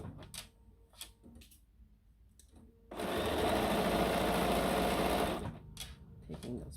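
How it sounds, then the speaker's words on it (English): A domestic sewing machine stitches a quarter-inch seam on a quilt block in one steady, fast burst of rapid needle chatter lasting a couple of seconds, with someone talking before and after and soft fabric handling nearby. "just take it to your machine, do that last quarter inch seam"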